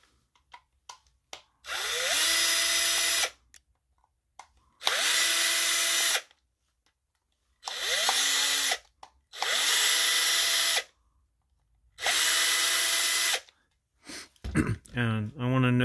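A small power drill boring out the center pin of a security star screw on a Black & Decker 20V Max battery pack, running in five loud, steady bursts of about one to two seconds separated by pauses.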